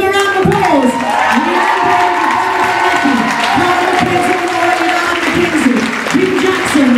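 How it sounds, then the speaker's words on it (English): Loud crowd applause and cheering at a parade for the student body painters, with hands clapping over shouts and whoops, sung-out voices rising and falling throughout, near and lively. "Give them a round of applause."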